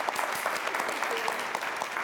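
A studio audience at a televised quiz show claps in a dense, sustained burst of applause, close and even throughout, with no voices over it.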